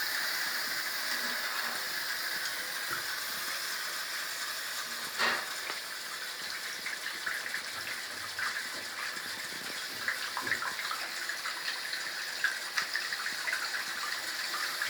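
Steady rushing of hot water pouring from a tap fed by a long-burning boiler, a continuous hiss with occasional small splashes and clinks, no voices.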